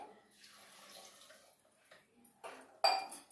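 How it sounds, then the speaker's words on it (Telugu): A glass of water is poured into a cooking pot in a home kitchen, making a soft splashing pour with a few light clinks and a sharper splash near the end. "1 గ్లాస్ నీళ్ళు వేస్తున్నానండి."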